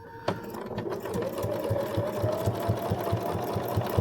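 Home sewing machine stitching steadily through thick fabric seams of a bowl cozy, a close, continuous rhythmic mechanical hum with regular needle thumps.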